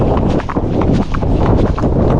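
A horse gallops on a long ride toward Knott End, its rapid hoofbeats thudding under a loud, steady rush of wind across the microphone.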